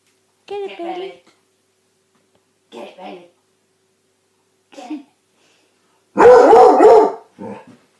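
A basset hound gives a few short barks and snorts spaced through the stretch with silence between, ending in one louder, longer bark close by.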